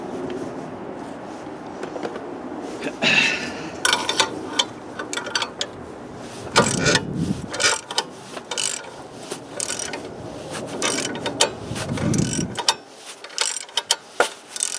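A pulley being forced off the engine shaft of a lawn tractor, heard as close, irregular metallic ratcheting clicks, clanks and grinding bursts, with brief quiet gaps between the efforts.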